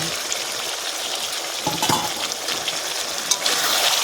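Previously fried potatoes going into a frying pan for coriander chicken: a constant bright sizzle with a couple of thuds and scrapes as they land and get moved about, no talk.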